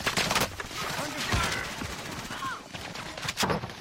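Automatic gunfire in Call of Duty: Warzone on the Caldera map, including an OTS SMG, crackles in rapid bursts, with a few sharp louder shots standing out while players talk over the fighting.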